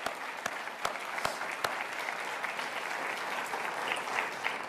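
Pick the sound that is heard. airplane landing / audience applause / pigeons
audience applause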